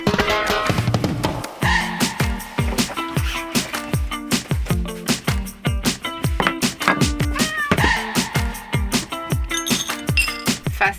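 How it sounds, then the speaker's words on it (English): Cats meowing for food in a van in the morning, a rapid string of loud, close, insistent meows repeating almost every half second for the whole stretch, with small clinks mixed in. "We need to feed the cats"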